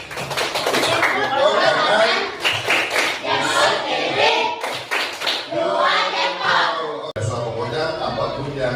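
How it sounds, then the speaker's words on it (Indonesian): Students in a classroom clapping together, busy rhythmic clapping and tapping mixed with lively chatter and laughter from the group. "Ayo, tepuk jempol."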